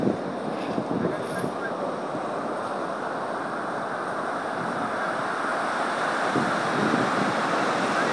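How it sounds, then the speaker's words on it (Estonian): Sea waves breaking on a beach where surfers are out, heard as a steady broad wash of surf with wind buffeting the microphone throughout, moderately loud and continuous with no clear separate breaks. "Ja ikka mõned lained ka."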